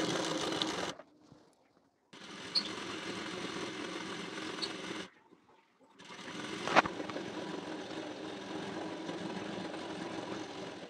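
A sewing machine stitches the sleeve onto a blouse at the shoulder, running in three steady bursts of whirring hum separated by short pauses, near and fairly quiet.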